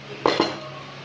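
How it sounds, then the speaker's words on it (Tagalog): A utensil mixes a fish filling with beaten egg in a bowl for Shanghai-style rolls. Two quick, close clinks of metal against the bowl sound over a faint background hum. "lalagyan po natin yung binating itlog. Haluin lang po natin siya"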